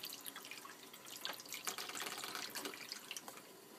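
Temperature-controlled water poured for black and white film development with a Jobo CPE-2 processor, a steady close splashing and trickling stream with small drips, continuous and fairly soft, with no talk.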